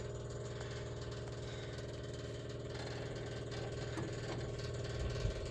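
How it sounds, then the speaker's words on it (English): An electric fuel pump runs on a 7.3 IDI diesel engine. The steady mechanical hum and whir holds at a constant level, with faint clicks near the end and no talking. "Let's turn on that electric fuel pump and see what happens."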